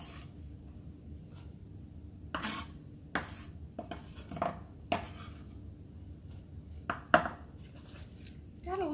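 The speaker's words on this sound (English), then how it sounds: "These green onions are a little big at the bottom, so I'm just cutting the bottom pieces in half" A knife cuts through the white bottom pieces of green onions on a cutting board in a home kitchen, with scattered sharp, quiet taps spaced irregularly over a low room hum.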